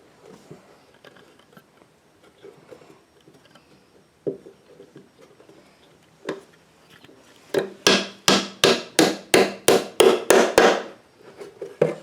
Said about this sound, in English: Here's your hammer.